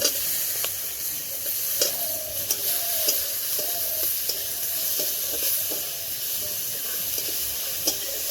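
Tomatoes hit a pan of hot oil with turmeric, chili and coriander powders, giving a steady close sizzle and hiss with stirring scrapes throughout, no talking.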